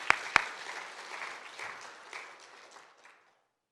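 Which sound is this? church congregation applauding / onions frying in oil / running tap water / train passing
church congregation applauding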